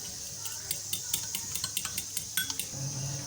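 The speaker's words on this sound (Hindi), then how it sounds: "एक अंडा लेंगे, हम इसको फेंट लेंगे।" An egg with a pinch of salt and chaat masala is beaten in a bowl, giving a rapid run of light, clinking taps of the whisk or fork against the dish. The taps come close and in fairly regular strokes, with no talking.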